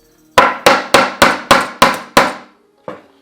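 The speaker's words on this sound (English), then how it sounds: "this trick is for punching in nail heads" A hammer drives a nail head in, using another nail as a punch, with seven sharp evenly spaced metallic strikes and then one lighter final tap, loud and close.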